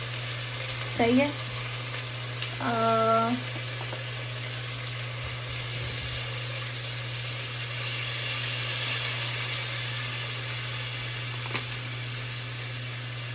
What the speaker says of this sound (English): Now I'm gonna add water.